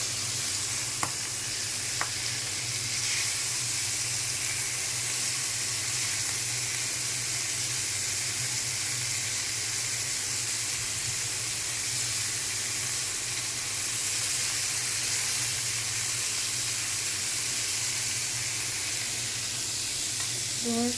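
Pomfret fish fry in a spoonful of oil in a pan on the stove, a steady loud sizzle and hiss running unbroken, with a faint clink or two near the start.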